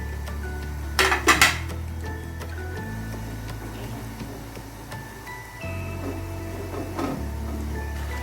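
Metal spatula clinking and scraping in a pan as chopped green chillies are stirred into chicken and vegetable fried rice, a few sharp clatters early on, then quieter mixing over a steady low hum.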